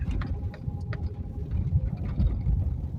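Car climbing a hill on a village road, a steady low engine rumble with road noise and faint rattles inside the cabin, continuous and close.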